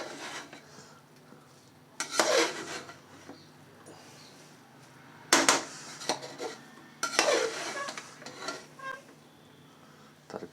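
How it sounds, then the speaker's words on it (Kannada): A spoon stirs and mixes masala and vegetables for pulao in a metal pot, with three loud bursts of scraping and clanking separated by quieter rubbing and lighter knocks. "ನೀಟಾಗೆಲ್ಲ ಮಿಕ್ಸ್ ಮಾಡ್ಕೊಳ್ಳೋಣ ಮಸಾಲೆ ಎಲ್ಲ ಮೇಲೆ ಬಂದಿದೆಯಲ್ಲ"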